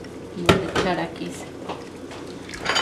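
A spoon stirs tomato sauce for a shrimp ceviche, with a sharp clink of utensil against the dish early on and softer scraping strokes after, while someone talks throughout.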